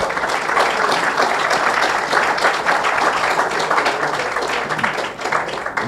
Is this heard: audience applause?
yes